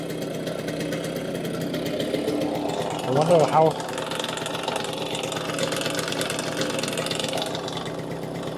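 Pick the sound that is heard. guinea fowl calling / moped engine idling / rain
moped engine idling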